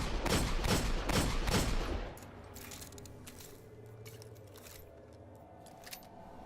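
Eyasluna hand cannon from Destiny firing in a rapid burst of loud, close shots for about two seconds, then stopping and leaving quieter game ambience with faint clicks.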